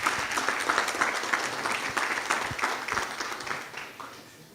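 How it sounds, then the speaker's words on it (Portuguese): An audience breaks into steady, dense applause to welcome a speaker at an evening event, many hands clapping evenly at moderate distance before slowly tapering off. "com uma forte salva de palmas."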